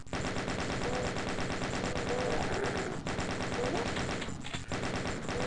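Rapid, sustained gunfire from the first-person shooter DOOM, loud and nearly continuous with dense bursts and a brief dip near the end, while someone talks over it.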